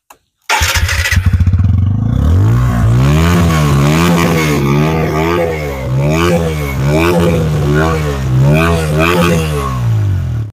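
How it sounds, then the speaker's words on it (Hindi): A 2024 TVS Apache RTR 160 2V motorcycle's 159.7 cc engine cranks and starts, then settles into a loud idle with repeated throttle revs rising and falling, close by. "अभी इसका इंजन स्टार्ट करते हैं और इसका एग्जॉस्ट साउंड कैसा है"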